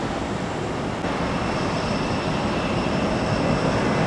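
An airplane on short final approach to a runway at Tampa gives off a steady, loud, broad roar that holds evenly throughout, with no voices.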